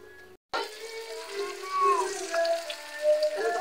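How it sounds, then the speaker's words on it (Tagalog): Cooking oil heats in a pan for frying turon, giving a soft, steady hiss and light sizzle that starts after a brief silence and carries on under a person speaking nearby. "ginapainit namin yung mantika"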